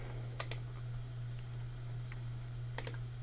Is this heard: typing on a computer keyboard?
yes